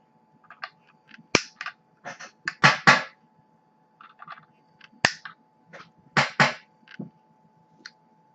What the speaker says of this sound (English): Now let's go ahead, trim the leads.